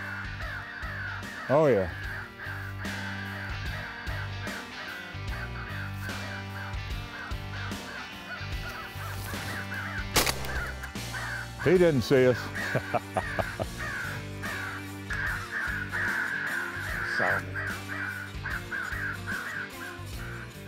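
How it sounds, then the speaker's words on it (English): Crows cawing during a crow hunt in Nash County, North Carolina, several harsh repeated caws at middle distance mixed with a sharp bang and rustling, under people talking. "Crow is an incredibly challenging target."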